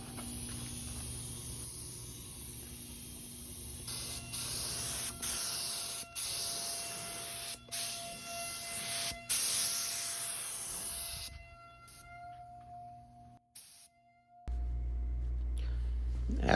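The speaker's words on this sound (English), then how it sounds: "As I'm spraying, I kept the gun moving, no pausing" A spray gun hisses steadily in long continuous passes with brief breaks while painting a car, run at about 25 psi from an air compressor, cutting off partway through before a low rumbling noise takes over near the end.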